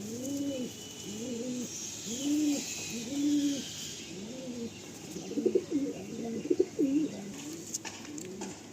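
Pigeons at a pigeon sale coo softly and repeatedly in a steady rhythmic series, several birds overlapping toward the end, with faint background hiss and no clear talking.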